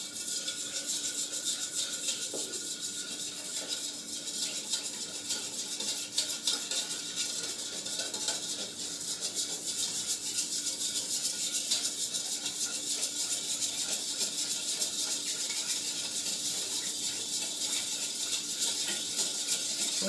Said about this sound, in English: You're going to slowly put it on top and you're going to whisk